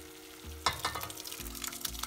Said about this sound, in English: So I'm going to add the cooked mung beans to this.